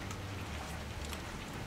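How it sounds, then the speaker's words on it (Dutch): Hail rattles down in the pirate video game Assassin's Creed 4 Black Flag, a dense, steady patter with scattered sharper ticks and no talk. "Niet weer hagelen."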